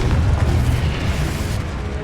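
Confringo blasting spell going off in the Hogwarts Legacy video game, a single heavy booming explosion with a deep rumbling roar that lasts the whole moment and fades slightly at the end.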